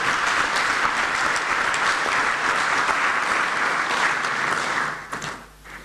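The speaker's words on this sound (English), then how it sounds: "Please, let's give them an applause." An audience at an inter-parliamentary conference on family and values applauds after solidarity messages. Full, steady clapping holds for several seconds, then tapers off and fades near the end.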